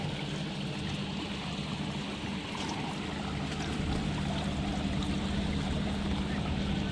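Heavy water pours through two opened dam gates during heavy rain, a continuous dense rushing roar with a low rumble underneath, steady and close throughout with no clear voices.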